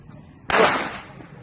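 A single loud Diwali firecracker blast bursts sharply after a moment of quiet, its noisy roar decaying over about half a second.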